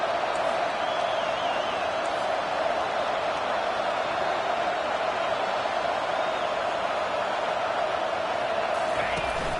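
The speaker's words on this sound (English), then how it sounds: "And the crowd coming to life here, trying to help this defense down in the red zone" Stadium crowd in the college football video game NCAA 25 roars steadily as the defense holds in the red zone, a dense, continuous wall of cheering that stays loud throughout.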